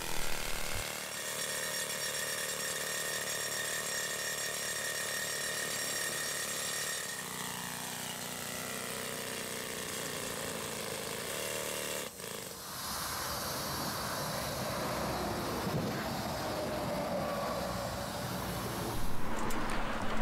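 A loud, continuous mechanical roar with hissing air and rattling, shifting in pitch partway through, from a compressed-air pavement boring machine working steadily nearby beside a freeway.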